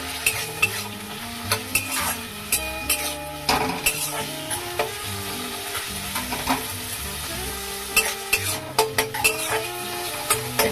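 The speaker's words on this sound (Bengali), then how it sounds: "এর মধ্যে আমি এই পেঁয়াজ আর রসুনটা দিয়ে দেবো। এটাকেও লাল লাল করে ভাজবো" Onion and garlic frying in a pan, with steady sizzling beneath repeated scrapes and stirring clinks from a utensil, close by; gentle music plays underneath throughout.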